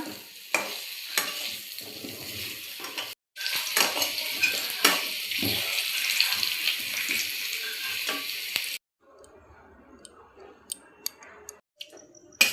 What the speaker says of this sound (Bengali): কড়াইতে তেল গরম করে নুন হলুদ দিয়ে আলুটাকে বেশ লালচে করে ভেজে নিলাম